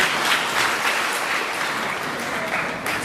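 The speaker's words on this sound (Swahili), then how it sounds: "Wapige makofi pia." Dense, steady applause from a crowd at a village gathering in Maji Mazuri, many hands clapping continuously at an even level with a faint murmur of voices beneath.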